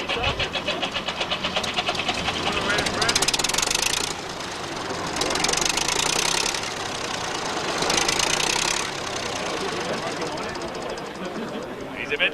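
A 1962 Fordson Dexter tractor engine runs steadily at a farm sale with a rough, knocking chug, loud and close, its tone rising and falling in surges.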